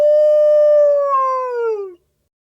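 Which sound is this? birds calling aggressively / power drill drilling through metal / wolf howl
wolf howl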